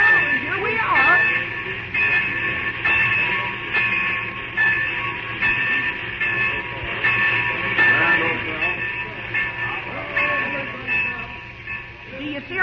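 In a radio drama scene on the Green Valley Line, a train rumbles and clatters steadily as it arrives at a station. The continuous mechanical churn runs under voices talking throughout.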